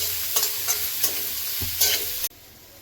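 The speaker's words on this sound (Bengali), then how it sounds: "কিছুক্ষণ ভেজে নেব।" Vegetables frying with salt in a pan for a street-style Bengali paneer roll, giving a steady sizzle with a few sharp stirring scrapes before the sound cuts off near the end.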